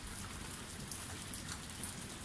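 Heavy rain pours down steadily outside an empty house, a dense, even hiss of drops pattering on surfaces close by with no voices.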